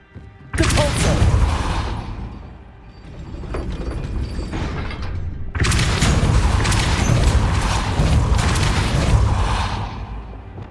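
Depulso force spell effects from the video game Hogwarts Legacy, loud booming magical blasts with crashing debris, one burst followed by a second sustained rumble after a brief lull.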